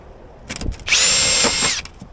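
A cordless power drill spinning up while rivets are set in a homemade spreader: a brief stutter of short bursts, then one sustained close whine lasting about a second before it stops.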